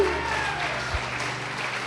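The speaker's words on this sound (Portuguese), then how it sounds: "Pode aplaudir Jesus." A church congregation claps steadily for a couple of seconds during a sermon, a dense even applause with voices faintly mixed in.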